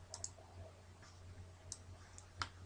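Soft, sharp computer mouse clicks while working in Excel 2010: several faint, isolated clicks spread across a quiet background, with no talking.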